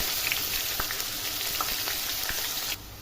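Chopped onions sizzle and fry in hot oil in a pan while vegetable upma is being made. The steady hiss stays close and loud with faint stirring ticks, then drops off sharply near the end.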